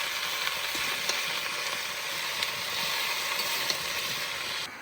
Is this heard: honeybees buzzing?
no